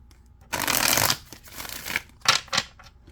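Tarot cards are riffled in a long burst, followed by a pause and two short quick shuffles, close and crisp with no talking.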